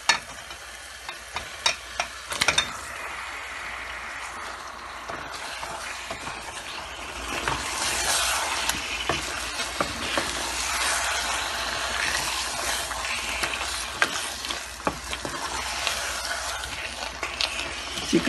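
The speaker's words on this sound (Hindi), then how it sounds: "चिकन डाल के थोड़ा सा भूनेंगे।" Chicken fries and sizzles in a pan with tomato for handi chicken, a continuous hiss swelling as it is stirred, with intermittent scraping clicks of a spoon against the pan.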